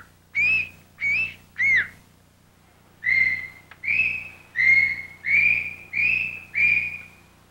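Whistled speech syllables repeated one at a time by a neighbor into a microphone, heard as eight clear, separate rising and sliding whistles in a steady rhythm, close and fairly loud, with no talking.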